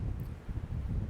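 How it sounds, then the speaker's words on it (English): Outdoor wind buffets a microphone fitted with a fluffy windscreen on a blustery day while a bird box is fitted, giving a low, rumbling gusty roar that surges and fades continuously. "It's a little bit windy today, so hopefully my little pom-pom on my microphone is doing its job"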